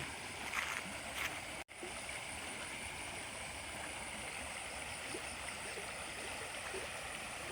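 Steady rushing water from a creek stream flowing at the edge of a tropical rainforest, a continuous broadband wash with one brief dropout early on.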